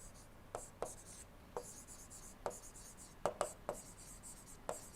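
Chalk or marker strokes on a board during an engineering lecture on engine combustion, heard as sparse short taps and scratches, some in quick pairs, over a quiet room with no talking.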